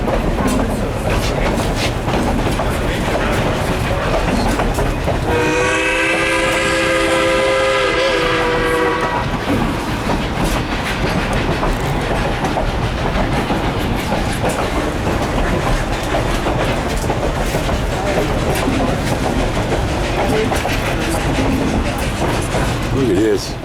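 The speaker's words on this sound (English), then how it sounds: "Old wooden train cars." Durango to Silverton train with old wooden cars rolling along the track, a constant rumbling clatter throughout, with a loud sustained horn blast a few seconds in and voices talking faintly underneath.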